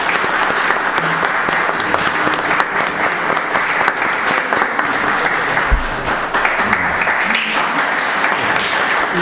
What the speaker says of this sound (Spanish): aquí siempre empezamos con un aplauso